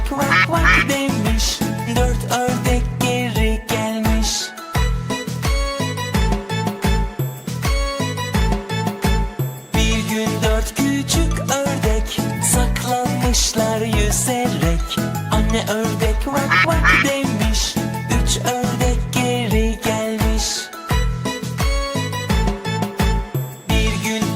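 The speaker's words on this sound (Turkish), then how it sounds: "ördek Vak vak" A duck quacks repeatedly in a busy, rhythmic children's song, the quacks blended with upbeat music that plays throughout.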